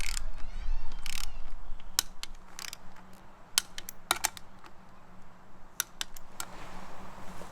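A hand wrench clicks around the bolts of a KMC KM237 Crawl beadlock wheel, sporadic sharp ratcheting ticks spread over a steady low background hum, close by with no voices.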